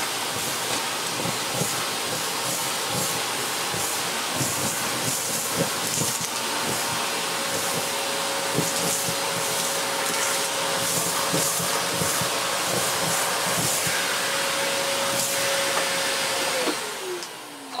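A Lux 1 Royal D820M vacuum cleaner runs on straight suction, a steady loud whine with bursts of crackling as debris is pulled in, then the motor winds down at the end.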